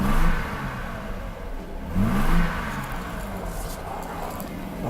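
A Mercedes W126 300SEL engine catches and revs, a mid-pitched rising and falling engine note with a short rev surge near the middle over a steady idle, while someone talks.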